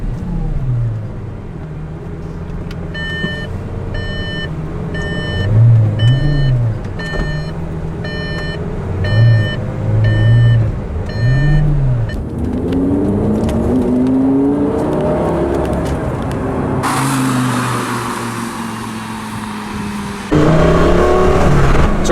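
A Lamborghini pulls away and accelerates, its engine note rising and falling in surges, with an intermittent electronic beeping early on and a louder roaring burst near the end; no one speaks.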